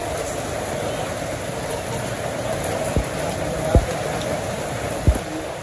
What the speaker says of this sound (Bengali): এই যে সুন্দর বৃষ্টি হয়েছে